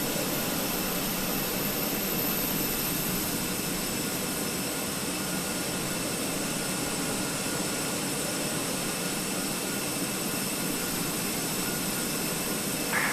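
Engines of a Swiss Fenix A320 Airbus in Microsoft Flight Simulator drone as a loud, steady, unbroken jet roar with a high whine running alone throughout.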